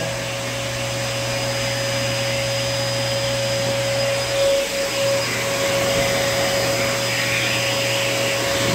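Handheld blow dryer blowing out the curly coat of a senior dog during grooming, a loud, continuous steady whir with a constant hum, close by and alone.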